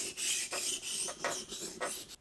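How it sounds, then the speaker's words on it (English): A cheap dollar store knife is hand sharpened on a 1000 grit whetstone, close rhythmic rasping strokes, about six back-and-forth scrapes with short pauses between them. "I've just been hand sharpening this knife."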